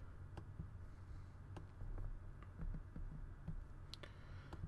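An IP address being typed on a computer keyboard to join a Minecraft 1.7.10 server on a Mac, with soft, scattered key clicks, quiet and close against a low background hum.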